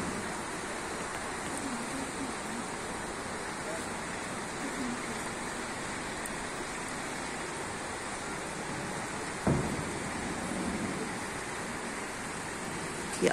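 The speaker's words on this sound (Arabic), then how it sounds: "القاهرة تمطر" Heavy rain falling over Cairo at dawn in late December, a continuous dense hiss of downpour with no letup and one brief sharp knock partway through.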